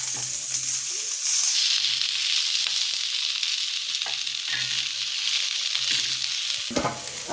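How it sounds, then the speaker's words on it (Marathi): Chopped onion sizzles loudly in hot oil in a pan for a spicy Marathi chicken rassa, a steady continuous fry with a few stirring clatters near the end, close and alone without talk. "खोबरे भाजले, आता कांदा टाकून घेते."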